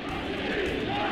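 A dense, anxious crowd gathering in Algiers on 13 May 1958, heard as a continuous loud murmur and clamor of many voices with no single speaker standing out.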